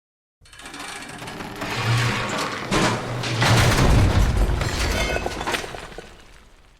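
An elevator in the 2008 adventure game Agon 2: Sword of Toledo drops once its brake is released: a heavy rumbling, clattering descent with crashing thumps and a booming low rush that swells and then fades.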